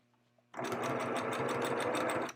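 A sewing machine runs a steady straight stitch through fabric, starting abruptly after a quiet moment and whirring fast and even for about two seconds, close and loud.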